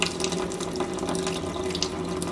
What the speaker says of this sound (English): I'm just going to fill this up with warm water.